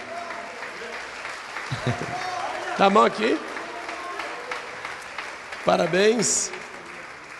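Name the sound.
congregation applauding in church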